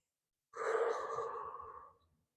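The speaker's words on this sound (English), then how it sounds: "Big inhale, we'll send it overhead." A single deep inhale, a soft airy breath drawn in close to the mic for about a second and a half, then fading out.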